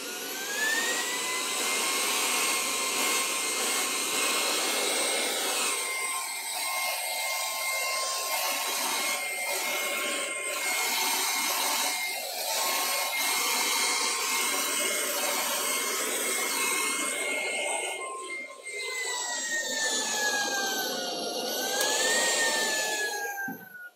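A household vacuum cleaner runs steadily at close range while powder spilled on a gaming chair is cleaned up, giving a loud continuous whine with its pitch shifting and dipping near the end.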